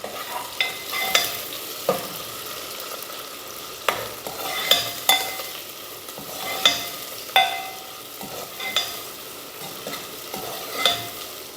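Cut carrot and bean pieces stirred while frying in oil, a quiet steady sizzle with repeated soft scraping strokes of the spoon at an irregular rhythm.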